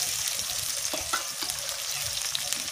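Chopped onion dropped into hot oil tempered with nigella seeds and slit green chillies, giving a steady close sizzle with light stirring scrapes, no voices.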